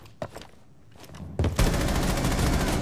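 Gunfire in the tactical shooter Rainbow Six Siege: two or three sharp shots early on, then a loud, dense burst of rapid fire that roars on without pause to the end, close and forceful.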